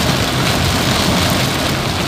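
Rain pours down while driving along Selokan Mataram. A loud, unbroken hiss of falling water fills the whole stretch with a low road rumble beneath, and no voices are heard.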